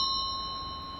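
A single bright electronic chime rings and sustains, steady and clear, fading only slightly over a second.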